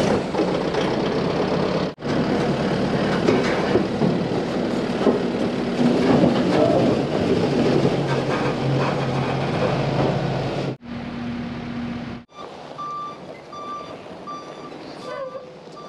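Truck reversing with steady repeated backup beeps over a loud idling diesel engine, briefly cutting out and resuming, while unloading gravel for a driveway.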